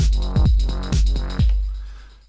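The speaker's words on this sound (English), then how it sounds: "So that's the Digitone." An Elektron Digitone synthesizer fires single-note techno stabs, loud gritty hits with sweeping attacks in a quick rhythmic pattern, the last one decaying into a fading tail.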